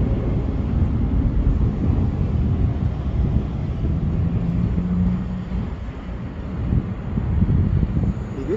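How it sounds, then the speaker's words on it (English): Gusty wind roaring across an outdoor park during a small whoop drone flight, a loud, continuous low rumble of buffeting air that swells and dips without pause. "And a bunch of wind."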